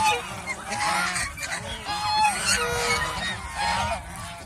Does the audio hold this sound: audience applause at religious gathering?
no